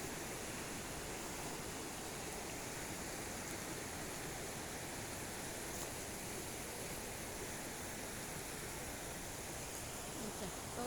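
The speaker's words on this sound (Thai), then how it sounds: "ป่าน้ำตก น้ำไหล ธรรมชาติค่ะ" A waterfall in a forest pours with a steady, even hiss of rushing water that holds at the same level throughout and has no other distinct sounds.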